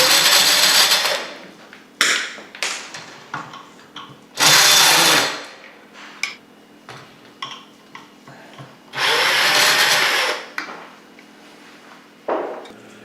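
A power drill removes the blades from an old ceiling fan, running in several short loud bursts of whirring with quieter clicks and handling noises between them, up close.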